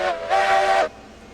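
A steam locomotive whistle in the railroad game RailRoads Online sounds in two blasts, a short toot then a longer, loud, harmonic wail that cuts off abruptly.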